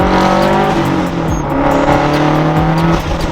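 A loud Subaru STI engine, converted to rear-wheel drive, revs hard, its pitch climbing and falling in sweeping rises, roaring close and continuous with no voices.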